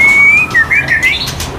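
A white-rumped shama whistles close by in a loud, clear, melodic song, with its notes sliding up and down over faint background noise.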